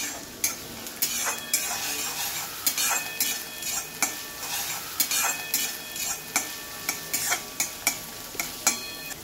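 Onions frying in a pan for pitla, a soft continuous sizzle broken by regular sharp scrapes and clinks of a utensil stirring against the pan, heard close with no talking.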